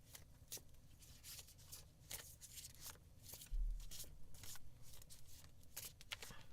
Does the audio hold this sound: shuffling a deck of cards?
yes